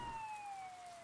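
A police siren in the video game Persona 4, a single faint steady tone gliding gently downward in pitch over a quiet, rain-like hiss.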